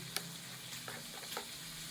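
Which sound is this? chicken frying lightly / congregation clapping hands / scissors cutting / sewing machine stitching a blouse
chicken frying lightly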